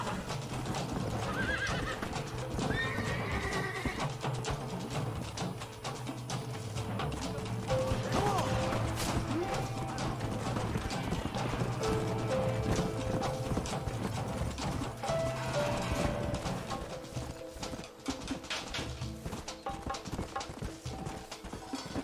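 A horse in the Red Dead Redemption video game gallops with steady clip-clop hoofbeats and neighs, over continuous game sound and some mechanical clicking.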